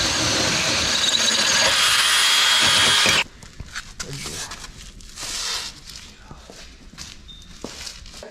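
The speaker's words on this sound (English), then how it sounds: "Ready to drill, right?" A loud power drill whirs steadily for about three seconds, then stops, leaving quieter shuffling, knocks and brief talk, while fitting a bed rack to a Jeep Gladiator pickup.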